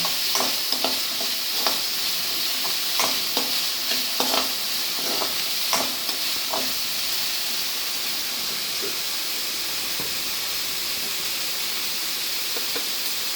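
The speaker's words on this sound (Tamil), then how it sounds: "நல்லா வதக்கணுங்க" Chickpea sundal sautéed in a pan with onion, giving a steady, fairly quiet hissing sizzle with light, irregular clicks of a spoon stirring against the pan.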